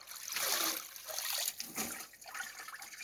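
Oil beans (ugba) being lifted out of water and placed into a basket, with steady splashing, dripping and trickling water close by, continuous and fairly loud, no speech.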